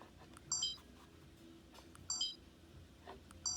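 Three short, bright electronic beeps from a CamPark T-40 12MP game camera, each a quick double chirp, spaced evenly over a quiet background hum.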